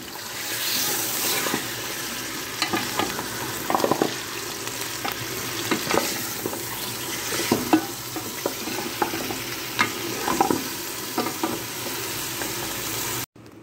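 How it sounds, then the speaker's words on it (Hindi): Beef nihari frying and being stirred in a pan, with a steady sizzle and repeated scraping stirs clattering throughout, close and fairly loud, no voices. "इसको भूनेंगे थोड़ी देर।"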